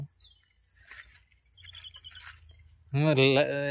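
Scattered bird chirps and short tweets sound at close range over a quiet background, and a loud voice comes in near the end.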